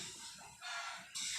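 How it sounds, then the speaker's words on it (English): Roosters crowing across a neighborhood in the Philippines at night, a quick overlapping crow with clucking, rather faint and distant, heard alone with no talk. "all the chickens in the neighborhood will wake up and start crowing"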